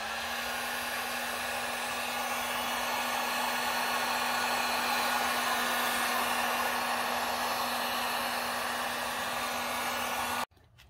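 A heat gun or hair dryer blows steadily on the adhesive behind a badge on a 2004 B6 Audi A4 1.8T, a constant close airy roar with a steady hum that runs unbroken for about ten seconds before cutting off abruptly.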